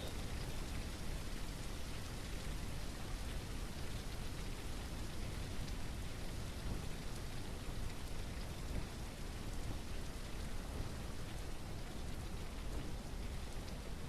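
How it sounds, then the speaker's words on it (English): Rain falls in the video game The Isle Evrima, a steady, dense wash of downpour on surfaces that holds at an even level throughout, with a faint low rumble beneath. "Rain's stopping, which is nice."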